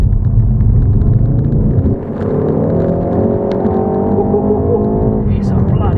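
A 2020 Ford Focus ST, warmed up on a UK road, gives a deep, steady engine and exhaust drone with a slight drop in pitch partway through, loud and continuous, with a voice speaking over it.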